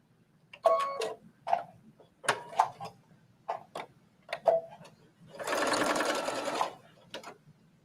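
A sewing machine stitches a jacket lining with green thread, starting with short stop-start bursts and then running steadily for about a second, close and clear with faint ticking between runs.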